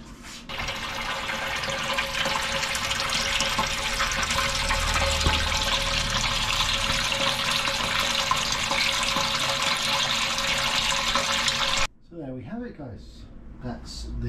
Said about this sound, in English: That's the Whirlpool arm built out of odds and sods.